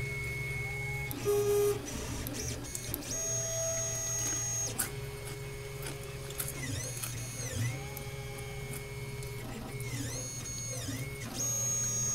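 A Solidoodle 3 3D printer prints an iPod Touch case, laying down a first layer. A steady mechanical hum runs beneath shifting, whining stepper-motor tones that rise and fall as the head moves.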